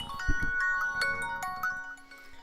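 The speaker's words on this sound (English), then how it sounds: "I get a phone call." Phone ringtone of an incoming call sounds loudly, a short run of melodic electronic tones and chimes, with no talk.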